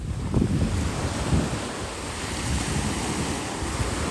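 Ocean surf rolls steadily onto Pantai Gurenggeh beach at Marang, Terengganu, during an afternoon of casting a fishing net. The wash is loud and continuous, with strong wind buffeting the microphone and no voices.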